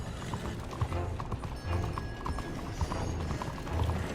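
Hooves clip-clop in a quick steady rhythm, a horse galloping in Red Dead Redemption 2 at moderate volume amid a busy background with faint mechanical clicks.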